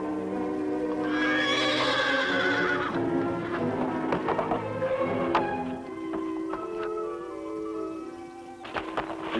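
Fury the horse lets out a loud, drawn-out whinny up close, followed by a run of irregular hoof clops and stamps on hard ground.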